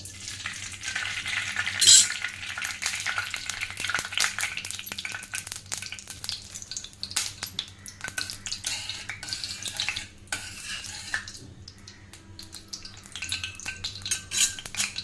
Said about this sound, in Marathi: कढई गरम झालेली आहे आता आपल्याला तूप टाकायचं आहे